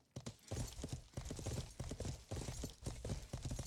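Horse hooves clip-clop in a steady, rhythmic walking pattern in the medieval game Life is Feudal, close and clear with no talk over them.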